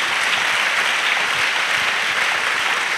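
A church congregation claps steadily together, a dense continuous wash of applause sustained throughout at an even, fairly loud level with no voices standing out.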